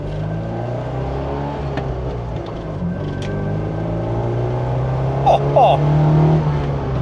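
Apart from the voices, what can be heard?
classic Alfa Romeo Alfetta 4-cylinder engine driving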